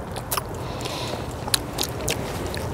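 Close-up chewing and biting of fresh tangerines just picked from the tree, with a few soft wet crunches and smacks spread over a steady low background hum.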